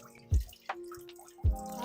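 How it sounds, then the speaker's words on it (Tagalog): Water is used to wash eggplant in a kitchen: two separate splashy drops land about a second apart, with a faint trickle between them, heard close up. "hugasan muna natin tong talong"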